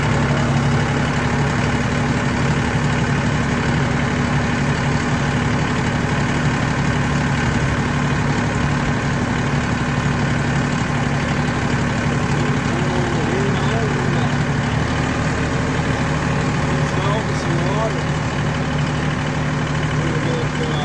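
A tractor engine idles while warming up on a cold day, a steady low diesel rumble that holds an even, unchanging throb for the whole stretch.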